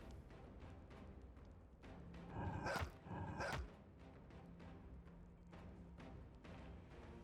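A dog companion barking in the turn-based Pillars of Eternity 2: Deadfire role-playing game, a couple of sharp loud barks in quick succession over quiet game ambience; no voices.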